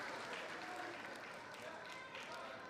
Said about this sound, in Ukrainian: І оплески зірвав від глядачів